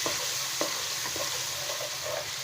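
Garlic-ginger paste and garam masala sautéing in a pan sound like a close, steady sizzle with a few soft stirring knocks, and no one speaks.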